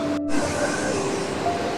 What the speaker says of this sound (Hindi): देखो ऐसे नदी बह रही है